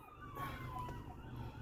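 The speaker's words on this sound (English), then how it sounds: "Ambulance going to pick Errol up after getting knocked out" An ambulance siren wails steadily with a gliding, rising and falling tone. It sounds moderately loud over a constant low traffic rumble, and no one speaks.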